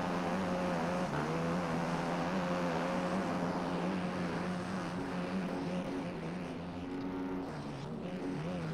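A two-stroke dirt bike engine in the MX Bikes motocross game drones loud and steady with a buzzy, slightly wavering pitch that dips briefly, continuous for the whole stretch with no talking.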